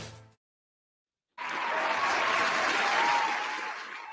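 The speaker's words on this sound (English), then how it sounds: "Did the applause work?" After a short tone and a second of silence, a recorded applause sound effect bursts in, a dense, sustained clapping crowd that holds steady and then begins to taper off.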